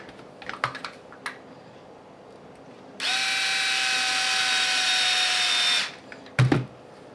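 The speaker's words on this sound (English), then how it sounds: "I'll just tighten up all 4 of these screws" Small screws being tightened into an Axial Wraith RC kit axle housing with a power driver, one steady whirring run of about three seconds, close by, surrounded by light clicks and handling taps.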